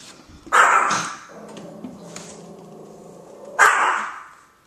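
Dogs kept in an unfinished bedroom of a house let out two sharp, loud barks a few seconds apart, with quieter whimpering and shuffling between them.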